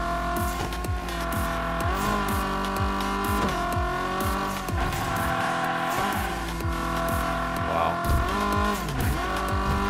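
Hot Wheels Unleashed toy cars racing in the video game, with a loud continuous engine whine, repeated pitch sweeps from shifting and drifting, and tire squeals throughout, with no talk.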